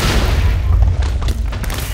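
Rapid gunfire in the Minecraft video game: a dense, boomy run of low, thudding shots rolls on steadily and close for two seconds, with no pause between bursts.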